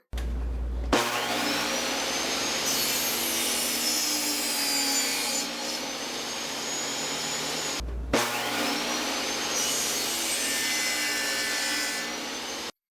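Two long passes of a power saw trimming wooden side pieces for a garden hose hanger, each a sustained whining cut of several seconds, loud and close, separated by a brief pause with no talk.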